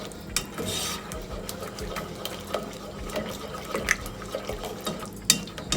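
A spoon stirs spices into a creamy vegetarian pasta sauce in a pan, making soft wet swishes broken by irregular scrapes and clinks against the metal, close by and moderately loud.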